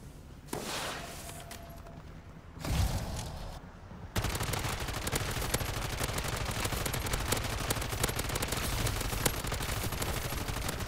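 A gun in Modern Warfare 3 zombies mode fires in rapid, dense automatic bursts after a few sharp earlier shots, the sustained loud rattle running on without pause and no talking over it.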